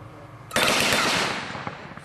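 A 50 cal show gun fires in a rapid burst, a sudden loud blast breaking in after a quiet start and followed by a dense crackling roar that slowly decays over more than a second.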